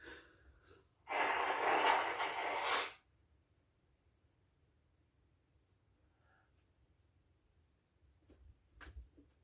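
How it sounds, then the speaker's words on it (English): One loud, sharp nose blow lasting a couple of seconds, then near silence with faint sniffs and breathing afterward. "I'm gonna blow my nose."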